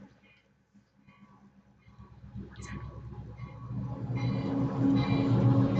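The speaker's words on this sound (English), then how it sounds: "Oh, and listen, there's a train." A freight train rumbles in the distance and grows steadily louder, a low rolling drone with faint clanks building over several seconds.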